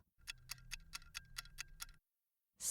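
A clock ticks about nine times in an even, quick rhythm, close and clear with nothing else around it, then falls silent before a short burst of sound at the very end.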